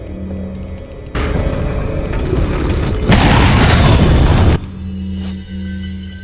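Video game hand grenade blasts: a heavy boom lands, followed by a second, louder broadband explosion that roars for over a second before cutting off, then quieter game ambience with a low hum returns.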